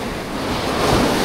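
Ocean surf washing onto a beach at Dingalan, Aurora, a loud, steady roar of breaking waves mixed with wind buffeting the microphone, with no voices.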